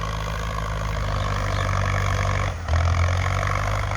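A Ford tractor engine runs steadily nearby during hired rice-field ploughing, a continuous low diesel rumble with a brief dip before it picks back up, no voices over it.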